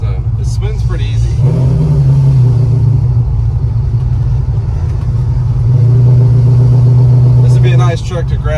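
A 1977 Chevrolet C10 pickup with a big block V8 revs near and loud, the engine rising in two steady holds over a rumbling idle, with someone talking over it.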